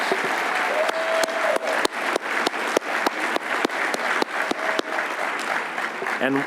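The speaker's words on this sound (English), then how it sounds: "Let's give our 5 years of service honorees a big final round of applause." Audience applause for five-year service honorees at an awards ceremony, sparse, distinct claps from a modest crowd with individual hand strikes standing out, steady for several seconds, with faint other noises underneath.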